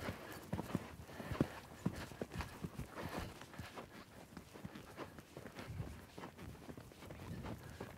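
Horse hooves trot in a steady rhythm over trotting poles in a riding arena, soft thuds and occasional wooden knocks at a moderate distance, with light wind noise across the microphone.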